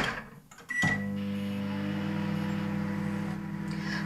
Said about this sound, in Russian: И теперь пора его отправить в микроволновку.